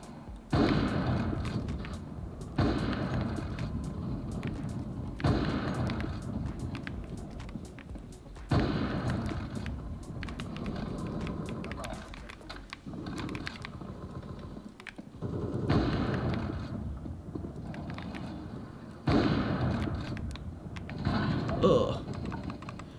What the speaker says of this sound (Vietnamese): Game có vẻ tiếng súng bắn cũng khá là thật hơn.